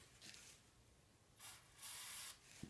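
Brake cleaner sprayed onto a cam bearing during engine cleaning: two short hissing aerosol bursts, the second longer, with faint mechanical clicks in between and a small tap at the end.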